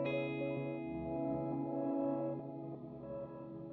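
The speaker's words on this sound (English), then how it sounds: "So if we want to feel that vibrato, we just turn that rate up." An electric guitar chord through a Matthews Technician pedal's vibrato rings out with a warbling, wavering pitch, sustained and fairly quiet with no talking.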